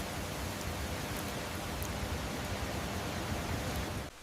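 Steady, dense rain falling over a Swiss village valley, an even wash of hiss with no break until it drops off right at the end.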